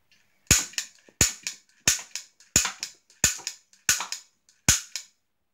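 Seven sharp gunshot cracks ring out at an even, roughly once-a-second pace, each loud and close with a short fading tail and silence between, no talking.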